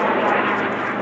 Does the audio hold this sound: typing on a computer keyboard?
no